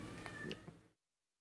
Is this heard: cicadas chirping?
no